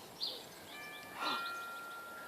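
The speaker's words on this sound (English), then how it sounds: "Ring the doorbell." A doorbell gives a faint chime of two or three soft tones that ring on briefly, heard from a distance in a quiet house.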